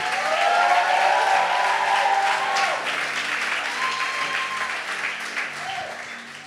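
A church congregation bursts into loud, sustained applause and cheering for the Lord on Joshua's behalf, a dense wash of clapping filling the room that gradually thins and fades over several seconds.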